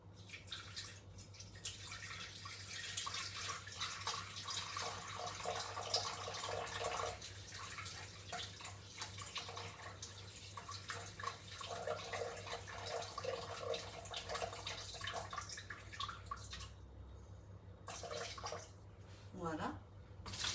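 Water runs steadily as 400 grams are poured into a kitchen appliance bowl, giving a soft, continuous trickle with faint drips. A person talks quietly over it, and a few clinks follow near the end.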